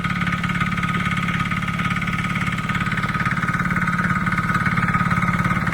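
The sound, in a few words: tractor engine running in a rice field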